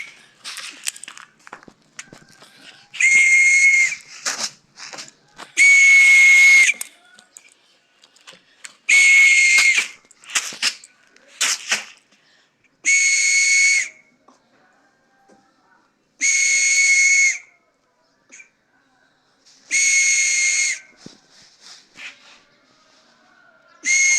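Repeated loud, sharp human whistles in regular bursts, each about a second long, meant to call pigeons, with soft handling clicks and rustles in the quiet gaps between them.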